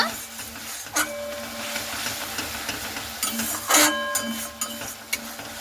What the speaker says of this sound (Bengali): মশলাটাকে খুব ভালো মতো করে নাড়াচাড়া করে নেব।